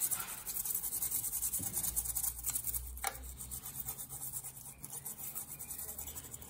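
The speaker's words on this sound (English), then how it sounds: "You wanna scrub especially like around the CPU, because it might be just some thermal paste." A graphics card is scrubbed while being washed, a soft, quiet brushing and rubbing that continues steadily with small irregular strokes, close and faint.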